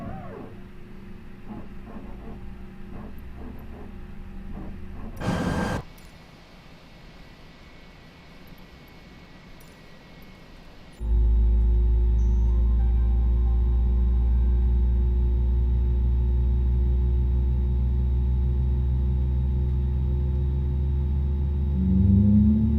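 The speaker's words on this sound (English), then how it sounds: "Okay, and start for engine 2." Engine 2 of an Airbus A320neo spools up in Microsoft Flight Simulator 2020, starting with a brief sharp burst and then rising into a loud, steady turbine whine and rumble that holds on.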